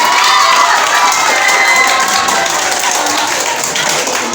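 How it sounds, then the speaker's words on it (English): A school audience at a Tihar festival program applauds and cheers after a boy's song, a dense, loud wash of clapping with crowd noise and children's shouts holding steady throughout. "Please, once more, give him a huge round of applause"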